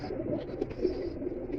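Pigeons kept by a Lahore fancier coo steadily in a low, continuous murmur, several birds blending together at moderate distance without talk.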